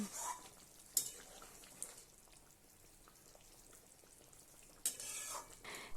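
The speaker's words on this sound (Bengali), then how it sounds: "ভালো করে একটু নাড়াচাড়া করে মিশিয়ে দিলাম।" Pieces of mrigel fish are stirred into a simmering mustard-poppy curry over a medium-high flame, with soft, close scraping and sloshing strokes in a pan, two brief louder bursts at the start and end, and a quiet simmer between.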